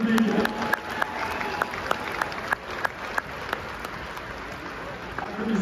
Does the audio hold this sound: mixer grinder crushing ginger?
no